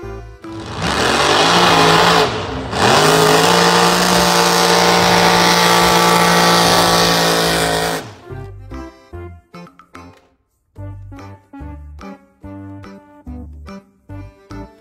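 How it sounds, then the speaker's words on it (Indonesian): A loud, steady toy motor whirs for several seconds with a brief dip, then cuts off, followed by scattered lighter clicks and rattles. "mobil truk monster."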